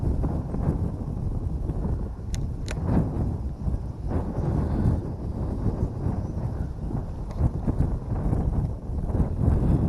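Strong wind whipping across a pond, buffeting the microphone with continuous low rumbling gusts that swell and ease, loud and close, with no clear speech.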